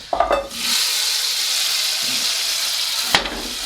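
A hot mustard seed infusion poured into a pot of dal, with a chickpea and spinach vegan curry in the making, gives a steady loud sizzle lasting several seconds, marked by a few sharp clinks of the pan at the start and end.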